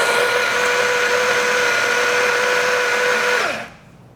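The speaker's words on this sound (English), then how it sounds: "It's going to be a lot less messy if you grind twice, 2 equal amounts of coffee." A coffee grinder on a Rocket Appartamento espresso setup grinds coffee into a portafilter, a loud close motor whir holding steady for about three and a half seconds before winding down and stopping.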